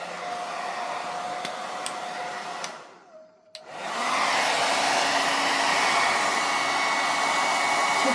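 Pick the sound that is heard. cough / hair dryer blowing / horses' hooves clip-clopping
hair dryer blowing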